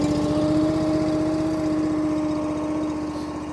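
A small gas engine on a Wolfe Ridge 35 SHO box wedge log splitter runs steadily just after starting, giving a loud, close, continuous pulsing drone with a steady hum and no pauses.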